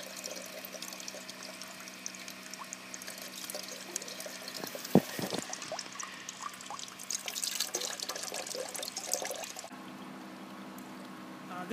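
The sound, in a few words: artesian well water running into a container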